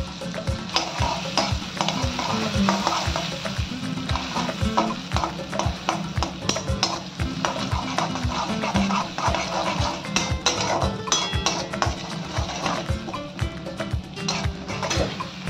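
Garlic paste frying in a pan for a creamy white sauce pasta, a busy, continuous sizzle with steady rhythmic scraping of a spoon stirring throughout.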